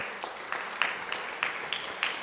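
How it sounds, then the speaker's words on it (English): At a district English spelling bee, a thin round of applause rises for the spellers: sparse, fairly even claps from a few hands, moderately distant in a hall. "If we can get a round of applause for our spellers."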